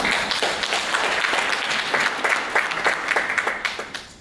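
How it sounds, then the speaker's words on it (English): A room of people applauding at the start of a professional panel session, dense clapping that holds steady and then thins into a few separate claps before fading out. "round of applause for you all for coming today"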